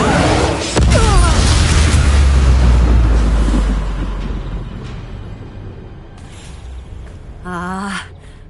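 A Bombarda explosion spell from the video game Hogwarts Legacy sets off a deep, booming blast that rumbles for a few seconds and fades, followed later by a short vocal exclamation.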